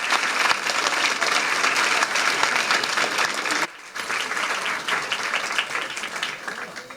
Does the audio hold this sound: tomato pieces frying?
no